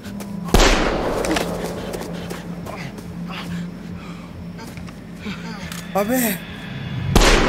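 Gunshots fired into the air in The Quarry video game, a sharp loud report near the start and another at the end, with people talking over the quieter stretch between.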